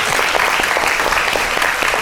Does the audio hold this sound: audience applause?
yes